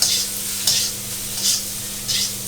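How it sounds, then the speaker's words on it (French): Thai-style fried rice stir-fried in oil in a pan, a spatula breaking up clumps of rice with a steady sizzle and four evenly spaced scraping strokes, close and clear. "vous séparez avec votre spatule les petits blocs de riz et une fois que tout est séparé, une fois que tout est enrobé d'huile"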